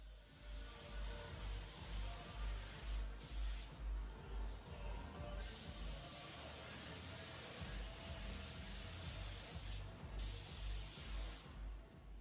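Steady hissing of a paint spray gun at about 22 psi on auto parts runs almost continuously, pausing briefly a few times, with a low rhythmic thumping underneath throughout.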